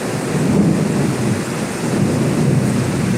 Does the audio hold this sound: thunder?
yes